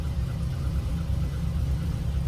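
A Dodge Challenger Scat Pack 392 V8 idles close by, a steady low rumble with a slightly uneven pulse, heard alone without any talking.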